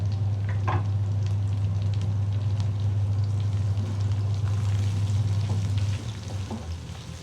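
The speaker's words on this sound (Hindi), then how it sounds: "गाजर को थोड़ा सा फ्राई करेंगे प्याज़ों के साथ।" Carrots and onions fry in a pan for chicken chow mein, giving a loud continuous sizzle with occasional crackles and spatters under a low steady hum from the stove or kitchen fan, easing off near the end.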